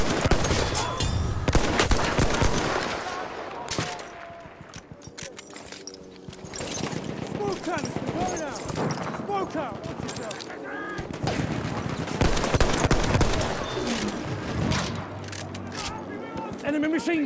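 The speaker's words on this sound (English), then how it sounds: "Enemy machine gun sighted." Bursts of automatic machine-gun fire from an enemy gunner in a first-person shooter on the Fao Fortress map, crackling loudly and repeatedly amid other in-game gunfire and battle noise.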